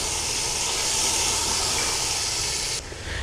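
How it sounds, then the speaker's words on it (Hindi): Yogurt and cumin frying together in a pot for liver pulao, a loud dense hiss of sizzling that runs steadily up close, then drops away sharply near the end. "अब इसको अच्छे से फ्राई कर लेंगे ताकि दही जो है वो मिक्स हो जाए।"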